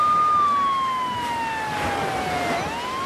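An ambulance siren sound effect plays alone as one long, loud tone that slowly falls in pitch over a few seconds, with a faint traffic hum behind it.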